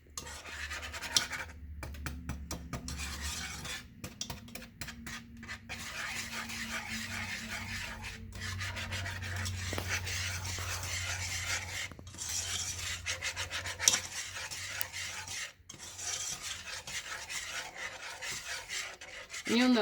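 Thick homemade Play-Doh dough being stirred in a pot, a steady scraping, rasping rub with irregular knocks against the pan, close and continuous with no talk.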